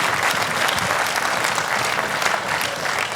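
A studio audience at a women's club television show bursts into dense, sustained applause, many hands clapping at once, loud and close, with a faint voice underneath.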